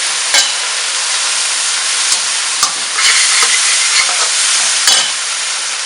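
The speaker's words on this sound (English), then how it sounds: "So the beans has been stirring for about 2 minutes now." Green beans stir-fry in a hot pan with a loud, dense hiss of sizzling close up, broken by sharp clicks and scrapes from a utensil knocking the pan at irregular intervals.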